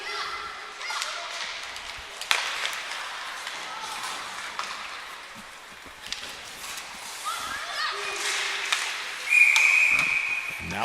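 At a U18 female ice hockey game between the Down East Auto Parts Stars and the Western Flames, a referee's whistle shrills once near the end, cutting through a rink full of stick clacks, thuds and crowd murmur.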